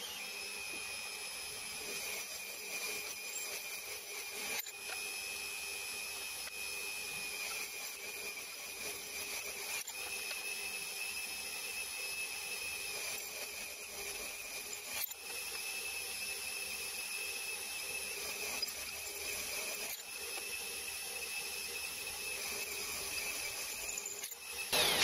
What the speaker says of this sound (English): I think I will drill both first